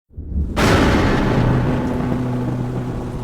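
A thunderstorm sound effect: a sudden loud crack of thunder bursts out of silence, followed by a sustained rumbling roar that slowly fades.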